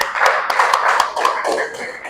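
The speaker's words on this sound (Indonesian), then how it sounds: "pertama tepuk tangan buat Ananta" A small group claps briefly for four students after a classroom test, a quick close burst of overlapping hand claps with voices mixed in.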